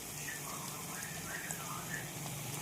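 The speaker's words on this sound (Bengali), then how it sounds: "আদা রসুন বাটাটাকে আমি একটু ভেজে নেব ভালো করে।" Ginger garlic paste frying with browned onions in a pan, a steady soft sizzle with faint crackle running throughout, fairly quiet and close, with no voices.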